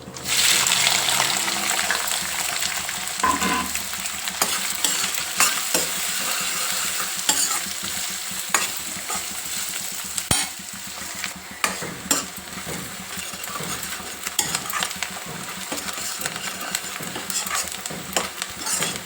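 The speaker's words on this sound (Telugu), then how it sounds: "ఉప్పు వేసి వేయించుకోవడం వలన మంచి కలర్ వస్తుంది" Sliced onions and green chillies fry with salt in a pan, giving a loud, continuous close-up sizzle. A spoon stirs throughout, adding frequent scraping clicks and knocks, and no one speaks.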